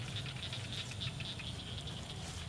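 Raindrops patter steadily on a camera out in a rice paddy, a soft continuous tapping with a low rumbling bed beneath, no voices.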